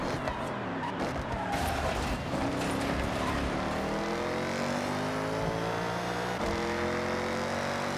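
A Forza Edition Subaru BRZ in the video game Forza Horizon, its engine revving and droning steadily with rising and falling pitch as it accelerates and shifts, loud and continuous throughout.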